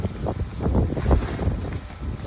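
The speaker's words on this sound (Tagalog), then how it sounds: "lakas ng hangin" Strong wind buffets the microphone in a steady, low rumbling roar with gusty swells, loud and close, no voices.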